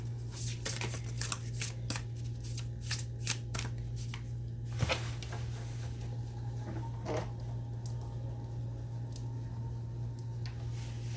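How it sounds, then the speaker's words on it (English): Tarot spell cards are shuffled, giving a quick run of papery riffling flicks at first that thin out into sparse soft clicks, close up over a steady low hum. "So let's get some spell cards for you."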